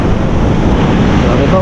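Loud, rough rushing of waves and wind buffeting the microphone, a continuous turbulent roar with no pause.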